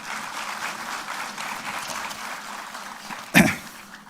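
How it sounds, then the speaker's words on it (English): Steady applause from a university lecture audience at a special talk on future wars at Savitribai Phule Pune University, even and sustained throughout, with one brief louder knock near the end. "Give a round of applause for him."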